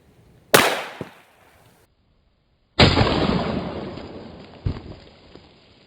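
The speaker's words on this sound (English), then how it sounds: "I'm just gonna go straight to the 9mm handgun." A 9mm handgun fired point blank at a plastic bottle: a sharp loud shot followed by a second smaller crack, a pause of silence, then another loud burst with a long decaying hiss and a late pop.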